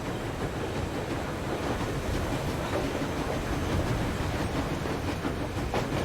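A train in the video game Metro Exodus rolls along with a continuous rumbling clatter and clickety-clack, loud and steady throughout, with no voices.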